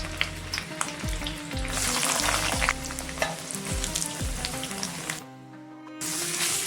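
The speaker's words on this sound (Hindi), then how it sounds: "प्याज लहसुन को फ्राई कर लेंगे" Onion and garlic fry in oil, sizzling and crackling steadily in a pan, with occasional stirring scrapes and clinks; the frying briefly quiets before resuming.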